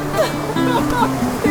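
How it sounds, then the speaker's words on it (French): Rushing, splashing water from a raft ride at Europa-Park runs beneath excited voices that talk and shout over it throughout. "Ça éclabousse."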